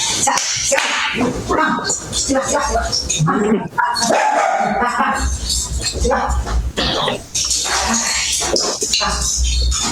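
Several dogs barking aggressively, loud, harsh and repeated, mixed with people talking and a continuous low hum throughout.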